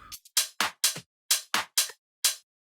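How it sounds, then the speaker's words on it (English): A sparse tech house shaker loop of short, hissy bursts in an uneven rhythm, fairly soft with gaps between hits. "We got a shaker loop over here."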